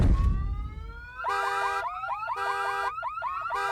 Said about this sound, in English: setting off car alarms with his big fat footsteps